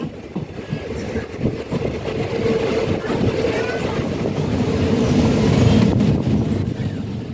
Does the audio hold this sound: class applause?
no